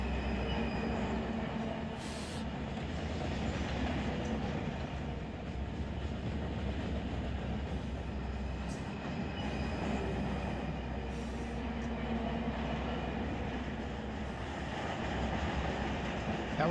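A freight train runs in the Run 8 train simulator game, a continuous rumble of rolling wagons with occasional short wheel squeals, steady and fairly loud throughout, with no talking.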